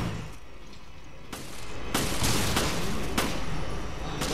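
Handgun fire in the video game Resident Evil: Revelations, several sharp broadband shots in quick succession after a quieter opening, loud and close.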